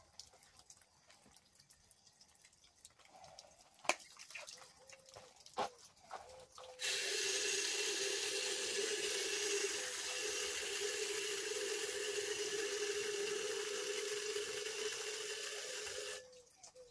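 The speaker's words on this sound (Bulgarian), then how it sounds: "Ще добавим и малко дестилирана вода за всеки случай." Distilled water pours steadily into a jar for about nine seconds, a bright continuous rushing stream that begins abruptly and stops sharply, after some faint clinks and handling noises.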